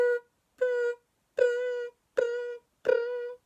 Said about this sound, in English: that noise is the special noise given to forklift trucks